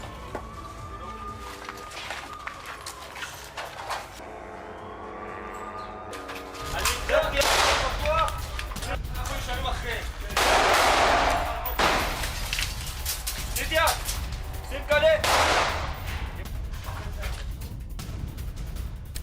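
Gunfire rings out during an IDF ground operation in Gaza: several sharp, loud cracks and bursts over a noisy, rumbling background, with a few distant echoing shots among them.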